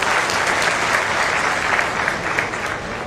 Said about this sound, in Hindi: इनके लिए भी और जो नाम छूट गए उनके लिए भी जोरदार ताली बजा दो।